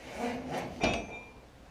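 A Humvee door swings open with a short clunk of the latch and a brief creak, close by, over a low steady background hum.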